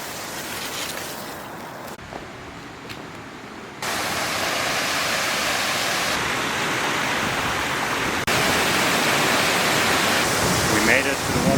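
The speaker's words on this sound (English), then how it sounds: "We made it to the waterfall." A mountain waterfall in Sri Lanka roars as a loud, steady wash of rushing water, growing stronger in steps as the listener draws closer, with a few muffled handling bumps.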